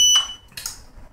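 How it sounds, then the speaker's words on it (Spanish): Temperature alarm on an Arduino controller cooling beer wort, a brief high electronic beep at the start followed by a short burst of noisy rattle, over a low background hum. "Ahí ha sonado la alarma porque una lectura ha estado entre 24 y 25 grados"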